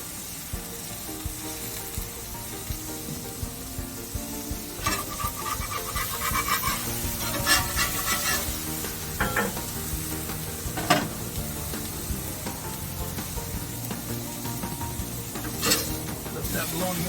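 Bologna slices fry and brown in a hot pan for a huge sandwich, with a loud, continuous sizzle and occasional scraping and stirring. Someone talks over the frying.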